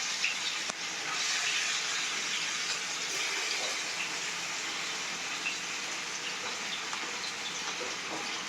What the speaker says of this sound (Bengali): তেলটি গরম হয়েছে, এখন আমি দিয়ে দিচ্ছি আমার নুন হলুদ দিয়ে মেখে রাখা মাছগুলো।